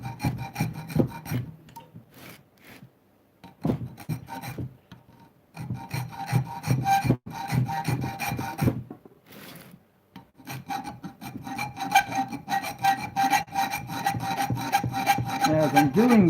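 Steel file rasping along the edge of a homemade forged knife during sharpening, steady repeated strokes in bursts with brief pauses, close and fairly quiet.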